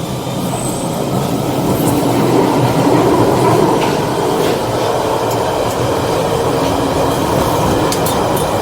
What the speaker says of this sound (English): The train is now ready to depart.